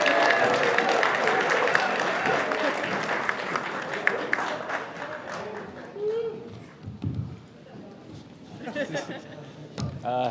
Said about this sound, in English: let's give a round of applause for the bride's brother, Nick.